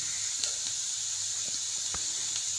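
Onions frying in a pan for paneer masala make a soft, steady sizzle and hiss, with a few faint clicks and taps breaking through it and no talking.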